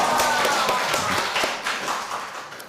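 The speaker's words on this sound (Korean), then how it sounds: "박수" Applause from a church congregation during a Sunday service, congratulating children on third place at a Bible school event. Dense, steady clapping stays close and fairly loud across the whole stretch.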